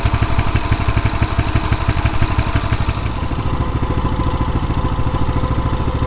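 Coleman CT200U-EX mini bike engine idling on half choke with a steady, rapid putter. The single small engine chugs close and loud in an even rhythm with no voices.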